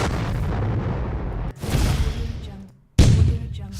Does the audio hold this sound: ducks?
no